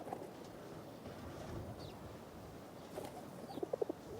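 Pigeons perched on top of a housing estate coo faintly amid outdoor ambience, with a few soft coos and a short run of brief calls near the end.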